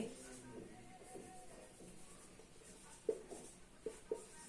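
A pen or pencil scratches out a short math answer on paper, faint and close, with a few light taps and rustles toward the end.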